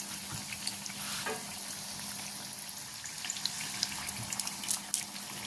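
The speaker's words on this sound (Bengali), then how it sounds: "এরকমভাবে উল্টে পাল্টে ভালো করে লালচে করে ভেজে নিতে হবে" Small shrimp fritters in rice-flour batter fry gently in oil over a low gas flame. A soft, faint crackling sizzle carries scattered light pops as the fritters are turned, with no talking.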